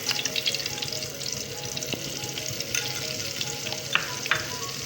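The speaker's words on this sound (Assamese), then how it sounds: "এতিয়া মই গাৰ্লিক বাটাৰ ৰাইচটো বনাবলৈ এয়া বাটাৰ দি লৈছোঁ।" Butter melts and sizzles in a hot kadai at the start of garlic butter rice, a steady close frying hiss with light stirring scrapes and a few brief clinks.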